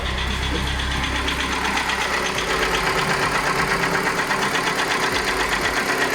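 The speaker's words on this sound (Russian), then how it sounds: "Вот такие вот звуки доносятся с мотора." Kia Sportage 3 engine with about 178,000 km on it idling with an abnormal knocking noise, a steady close mechanical rumble with a rapid ticking rhythm running throughout, no voices.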